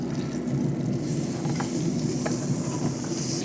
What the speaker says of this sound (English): Let's dump all this on top of our sizzling fish. I like the sound of it all in there.